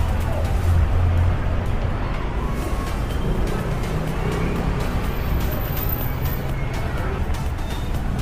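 Downtown Butuan City street traffic rumbles continuously, with cars passing close by in a dense, loud wash of engine and road noise and occasional faint voices mixed in.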